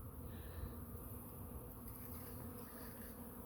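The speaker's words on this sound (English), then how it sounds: "These bees are all over the place." Honey bees swarm after a few days of rain, their dense, continuous buzzing filling the air around a hive, faint but unbroken with no voices.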